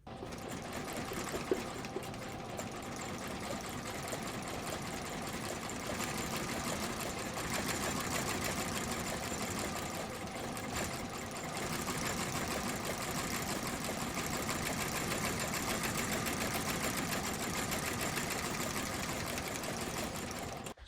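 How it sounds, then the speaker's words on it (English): Leather soles being stitched to the welt of cowboy boots on a sole-stitching machine, giving a steady, continuous mechanical whirring and rapid stitching clatter that runs close and loud for the whole stretch with no talk. "now we're going to sew the soles to the welt"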